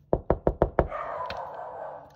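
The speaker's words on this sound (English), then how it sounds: "so it looks like if I knock on the window" A knuckle raps on window glass five times in a quick, even sequence, close and sharp, followed by a short quiet stretch of room noise.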